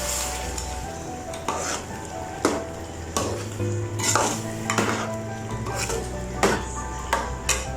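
Metal spoon stirring dal and mutton in a cooking pot, with repeated scraping clinks and knocks against the pot over a faint sizzle of frying, steady and close.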